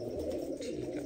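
Pigeons coo in a low, steady murmur, close and unbroken for about a second, with no voices.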